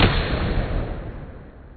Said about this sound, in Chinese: 别西卜在剧烈的爆炸声下倒飞了出去